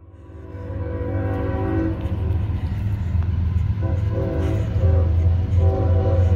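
A loud, sustained multi-tone horn on NS freight train 214, locomotive 8151, blares repeatedly over the heavy rumble of the passing train, close by.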